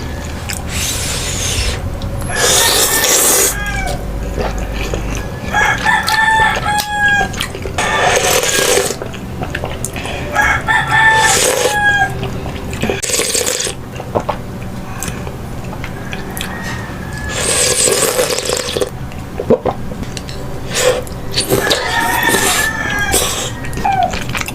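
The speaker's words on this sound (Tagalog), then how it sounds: "Gising na ang mga manok." Roosters crow in several separate, fairly loud bursts spread across a long stretch, with quieter clucking and rustling between them.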